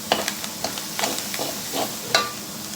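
Clam meat frying in a pan at home, with a utensil stirring it: a steady sizzle under several sharp scraping and clattering strokes at an uneven pace, close and fairly quiet, with no talking.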